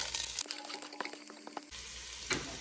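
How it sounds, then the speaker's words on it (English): Chopped onion and garlic, four or five cloves with one onion, tipped into a hot pot for chili and frying with a steady close sizzle that thins out briefly in the middle, no talk over it. "I'm going to cook it until the onion is translucent"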